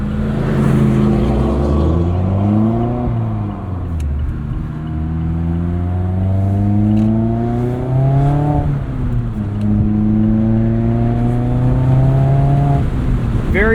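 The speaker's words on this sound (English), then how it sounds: "That's got to be one of the nicest sounding four cylinders on the market." A Mazda MX-5 Miata ND3's four-cylinder engine, heard from inside the car, revs repeatedly. Each rising sweep climbs then drops as the car shifts, with a close, strong rumble throughout.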